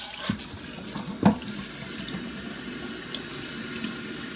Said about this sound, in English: I just take my rubber here, my rubber tire, and just kind of rinse it out. Give it a good rinse.